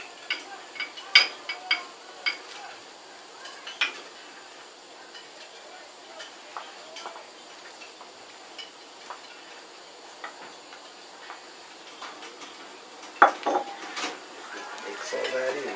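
Meat and vegetables being mixed in a pot, with soft scraping and occasional sharper clinks of utensil against metal, faint and intermittent, and a few louder knocks near the end.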